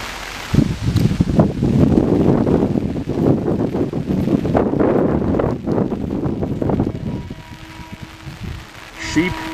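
Gusty wind buffets outdoors in a historic village during a rainstorm, rough roaring surges rising and falling for several seconds, loud and close, then easing toward the end.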